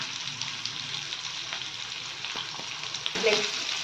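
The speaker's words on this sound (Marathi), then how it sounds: "कांदा टाकायचा आणि छान असं परतवायचं" Onion and cumin seeds sautéing in a pan for tawa cabbage, a dense continuous sizzle with a few stirring scrapes and a louder burst of frying near the end.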